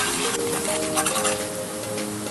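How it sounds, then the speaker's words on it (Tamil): A spoon stirs spice powders, including Kashmiri chilli powder, together in a hot pan for egg korma, giving a steady close scraping under a continuous sizzle. "இப்போ இது எல்லாத்தையும் நம்ம நல்லா மிக்ஸ் பண்ணிடலாம்."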